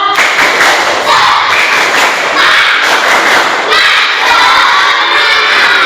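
Elementary school students do a loud group clapping cheer, rhythmic claps and thumps mixed with excited shouting voices, close and energetic throughout.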